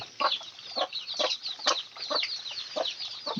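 A hen with her chicks clucking close by, giving a run of short, repeated clucks at a fairly even pace, with faint peeping alongside.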